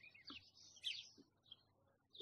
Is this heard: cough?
no